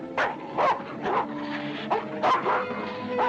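A dog barking repeatedly in quick yipping bursts, close and loud, with whimpering tones between the barks, from a 1940 fantasy film.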